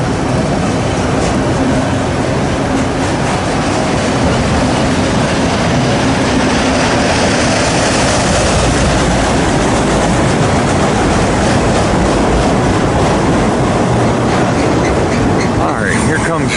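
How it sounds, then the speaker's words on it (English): An eastbound freight train hauling auto racks full of cars, vans and trucks rolls past on the Harrisburg line, a loud, close, continuous rumble and clatter of wheels and wagons lasting throughout. "Comes the end of this train"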